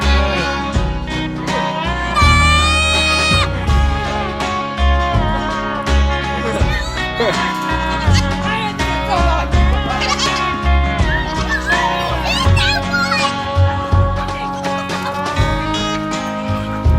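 Baby goat bleating on a family farm, with wavering, high bleats repeated throughout a dense, busy mix of other sound.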